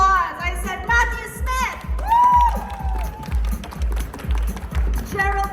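Applause and cheering from a conference audience greet a guest taking the stage at an industry CEO panel, with a steady tapping beat underneath and a host's voice over it.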